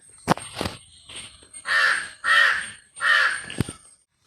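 Crows caw loudly three times in a row, harsh drawn-out calls, with a few sharp clicks and taps before and after.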